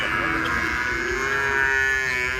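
A Murrah buffalo gives a loud, sustained low moo at a livestock market, one long drawn-out call that fills the whole moment with no talk over it.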